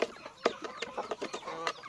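Backyard chickens and a rooster at a Filipino breeder setup cluck and squawk in a busy, overlapping chatter, close and fairly loud, with no talking.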